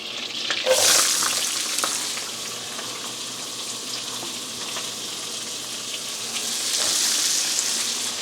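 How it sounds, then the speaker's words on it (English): Onions sauté in a pan for mushroom risotto, a soft continuous hiss with occasional scraping stirs and brighter bursts of sizzle near the start and end. "right now we're going to start sauteing the onions"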